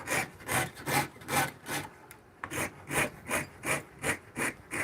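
Rhythmic back-and-forth hand-sawing strokes cutting a hole in metal, about two per second, close and fairly loud, with a brief pause midway before the strokes resume.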